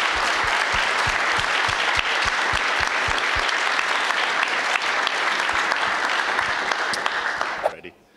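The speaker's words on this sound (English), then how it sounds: "Let's give a round of applause for both our debaters here." A crowd at a live debate on Ukraine breaks into loud, dense applause that holds steady for several seconds, with some voices mixed in, then fades out abruptly at the end.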